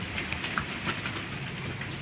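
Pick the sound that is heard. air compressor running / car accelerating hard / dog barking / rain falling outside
rain falling outside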